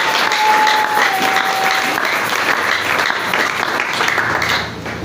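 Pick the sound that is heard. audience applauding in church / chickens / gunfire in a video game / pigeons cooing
audience applauding in church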